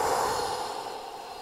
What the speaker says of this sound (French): Inspire profondément pour te dynamiser et souffle fortement.